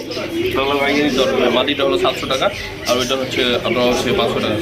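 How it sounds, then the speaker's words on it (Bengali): Pigeons, including a single black Maltese pigeon, coo softly beneath steady talking throughout, their low murmuring calls mixed with the seller's voice. "এখানে হচ্ছে সিঙ্গেল একটা মাল্টেস কবুতর ব্ল্যাক কালার"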